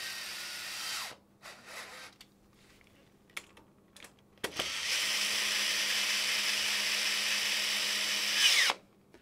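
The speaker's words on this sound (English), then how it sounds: "So some power tools, because it's a pretty long screw." A power drill driving a long screw into a home file server whirs in short bursts, then runs in one long steady spin for about four seconds before stopping, close and fairly loud.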